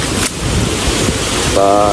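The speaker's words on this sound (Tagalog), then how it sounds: "Pero ang lakas ng hangin ngayon" Strong typhoon wind roars and buffets the microphone nonstop, with a constant gusty rumble and a voice starting faintly at the end.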